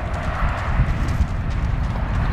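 A gaited horse's hooves clip-clop in a steady, even rhythm close by, with continuous low thudding footfalls running through the whole stretch and no talk over them.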